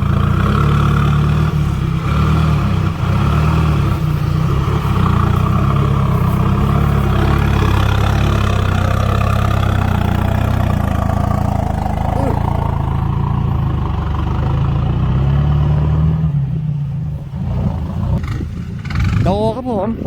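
A loaded Hino Dominator dump truck pulls out of a dirt field, its diesel engine and loud exhaust rumbling heavily up close and revving steadily throughout, then fading toward the end.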